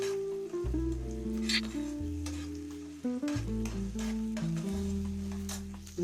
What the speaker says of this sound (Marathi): फ्राय करते मस्त